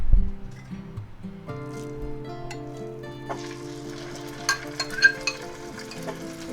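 Jimmy Dean sausage goes into hot peanut oil in a pan, then is stirred and sizzles, growing louder toward the end over soft tonal background music.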